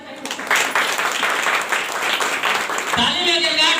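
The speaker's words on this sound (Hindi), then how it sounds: "जबरदस्त ताली बजते" Enthusiastic applause from an audience welcoming and honoring a leader at a celebration event, dense steady clapping throughout with voices mixed in.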